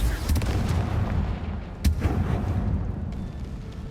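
A Confringo fire spell in the Hogwarts Legacy video game blasts with a heavy booming explosion, then a second sharp blast cracks near the middle before the rumble fades away.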